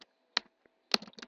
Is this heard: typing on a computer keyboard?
yes